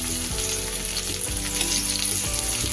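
Finely chopped onion dropped into hot rice bran oil with tempering spices, frying in a steady, loud close-up sizzle with a faint background hum, and no one speaking.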